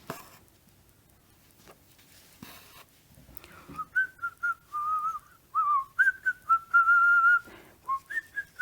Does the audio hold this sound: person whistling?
yes